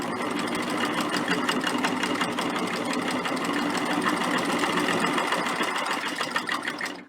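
Sewing machine stitching double fold bias binding onto a quilt on a wobbly plastic table, a steady continuous mechanical whir with rapid needle clatter running close and loud throughout before stopping at the end.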